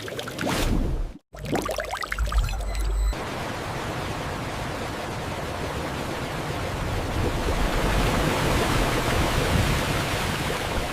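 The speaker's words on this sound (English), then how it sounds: "The continuous flow of raw sugarcane juice is a testament to the efficient extraction." Raw sugarcane juice gushing in a steady stream from the mill at a modern cane sugar factory, a loud continuous rushing wash of liquid that runs on without a break after a short burst of clatter at the start.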